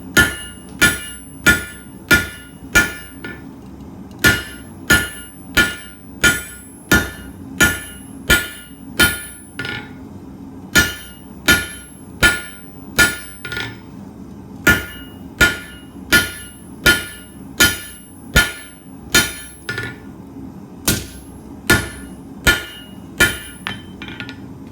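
Hammer blows forge an H-13 tool steel punch into a square taper, sharp ringing metallic strikes in a steady rhythm with brief pauses between bursts, loud and close.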